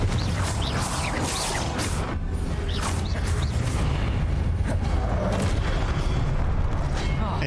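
A Confringo blast spell in the Hogwarts Legacy video game during a fight, dense booming rumbles and crackling impacts with whooshing bursts, layered continuously over heavy combat noise.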